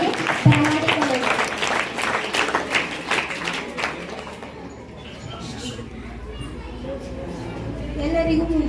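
Crowd applause at a village gram sabha meeting at a school in Athani welcomes a student onto the stage: dense clapping for the first few seconds that fades into a low murmur.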